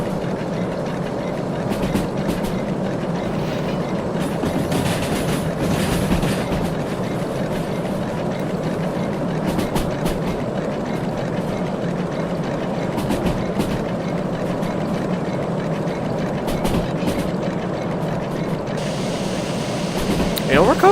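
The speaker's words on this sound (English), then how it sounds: "Ah yes, my favorite, weak electric locomotive." A weak six-axle electric locomotive rolls along the rails in the VR train game Derail Valley, a continuous low rumble and drone that holds steady, with a voice talking over it.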